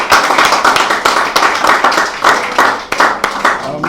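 A church congregation at a Wednesday evening service claps in loud, sustained applause, with many hands beating steadily and densely throughout and no clear voices on top.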